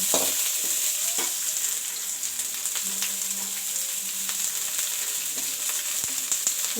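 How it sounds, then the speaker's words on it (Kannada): Spices sizzle and crackle in hot oil, a steady bright frying hiss with scattered pops and occasional stirring clatter, close up. "ಒಗ್ಗರಣೆ ಎಲ್ಲ ಚೆನ್ನಾಗಿ ಫ್ರೈ ಆಗಿದೆ"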